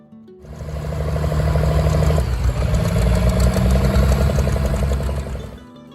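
A turbocharged Allis-Chalmers D19 Diesel tractor engine idles steadily after starting up, a low rumbling throb with a mechanical clatter, close and loud throughout.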